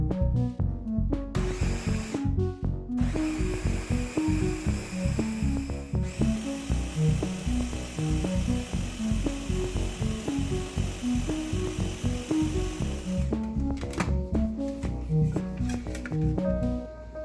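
A blender churns chopped carrots with water in a loud, continuous rattling whir, with hard chunks clattering against the jar and a couple of brief pauses, with no voices.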